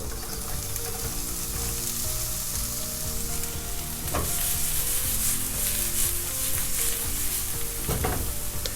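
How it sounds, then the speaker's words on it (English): Onions fry in oil in a pan with a loud, continuous sizzle, broken by a couple of brief scraping stirs partway through. No one talks. "Add a bit oil to your pan"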